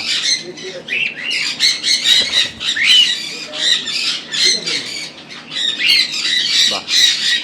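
Exotic pet birds at a bird farm in Kolkata squawk continuously in a dense, loud chorus of overlapping shrill calls throughout, with a faint voice underneath.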